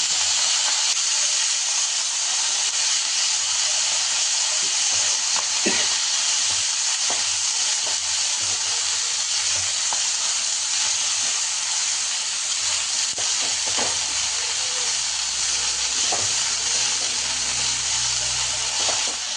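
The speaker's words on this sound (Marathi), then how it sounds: "चांगली तळली मिरची आता भाजी टाकायची." Fresh methi (fenugreek) greens tossed into a pan of garlic and green chilies fried in oil, giving a loud, steady sizzle with bursts of steam hiss and occasional stirring scrapes, no voices.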